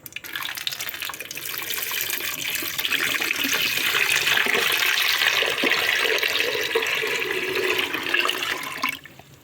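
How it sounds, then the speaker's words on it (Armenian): Cold tap water pours into a pot holding jars of okra marinade, a steady rushing splash that builds then holds before cutting off, close and fairly loud with no talking. "Հիմա կավելացնեմ սառը ջուր"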